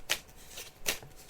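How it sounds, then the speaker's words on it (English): Tarot cards being shuffled during a psychic reading, two soft riffling bursts a fraction of a second apart, quiet and close. "So as you can hear, Wesley, I'm just shuffling the cards now."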